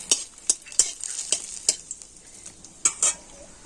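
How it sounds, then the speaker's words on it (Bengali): Dry red chillies and bay leaves frying in hot oil in a kadai, with a crackling sizzle and repeated sharp clinks of a spatula stirring against the metal pan. "কড়াইতে আমি আবারও তেল দিয়ে দিয়েছি, দিয়ে দিচ্ছি 2টো শুকনো লঙ্কা"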